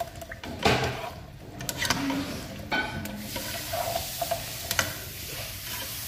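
Carrots and potatoes cook in a pan for chicken afritada, with close stirring scrapes and clacks over a soft, steady sizzle that comes and goes.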